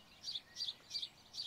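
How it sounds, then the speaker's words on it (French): A small bird sings outdoors in the evening during a yoga session, repeating a high, thin chirping phrase four times at an even rhythm, faint and alone against quiet background. "Le petit oiseau qui a décidé de nous accompagner ce soir pour cette séance."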